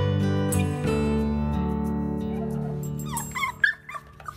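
Shelter puppies whimper and yip, starting with high whining cries and breaking into sharper, excited yips near the end, close and fairly loud.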